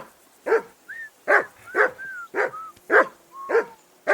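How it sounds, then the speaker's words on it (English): In Kingdom Come: Deliverance II, a dog gives seven or eight sharp barks in a quick, regular rhythm, with thin whining tones slipping between the barks, close and clear over a quiet background. "Whistle at that mutt of yours to stop barking."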